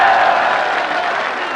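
A large crowd at a political rally in Mianwali claps loudly and steadily, a dense continuous roar of applause throughout.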